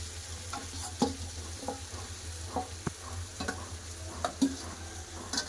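Fried prawns sizzle in a pan with spices for a snake gourd curry, with a steady frying hiss and scattered spatula scrapes and clicks.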